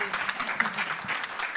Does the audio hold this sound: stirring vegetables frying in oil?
no